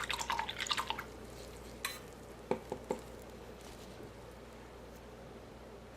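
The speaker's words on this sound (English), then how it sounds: "And I'll just wash my brush." A paint brush is swished and rinsed in water while painting rocks, giving a few quick splashy clinks and drips near the start, then scattered soft taps over quiet background, faint and close.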